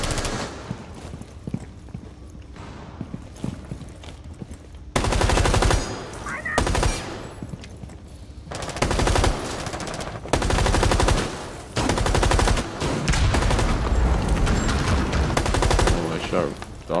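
Automatic gunfire in Rainbow Six Siege on the Kanal map, loud bursts of rapid shots in several separate volleys between quieter stretches of indoor movement.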